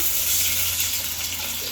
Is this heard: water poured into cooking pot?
yes